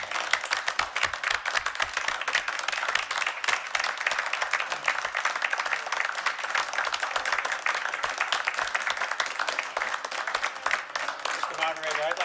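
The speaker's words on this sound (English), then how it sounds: "maybe we could do a round of applause" A round of applause at a town RTM meeting, honoring two retiring members: dense, continuous clapping from the assembled representatives, fairly close and steady throughout, with a few voices faintly mixed in.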